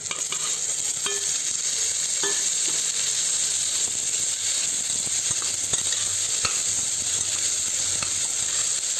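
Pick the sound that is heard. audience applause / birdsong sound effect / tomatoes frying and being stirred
tomatoes frying and being stirred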